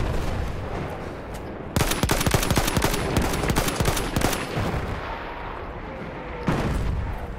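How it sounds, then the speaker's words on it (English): Machine gun fire in a World War I battle game, a loud burst of rapid, close shots rattling for several seconds, followed by a lull of distant rumble and a final sharp blast. "Machine gun, hostile!"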